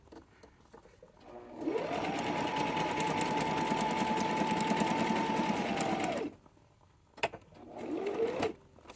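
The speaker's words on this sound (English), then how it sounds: "We've sewn all the way around." A sewing machine runs a steady zigzag stitch around the edge of a junk journal page, close and continuous for several seconds before stopping, then a short click and a brief second burst of stitching.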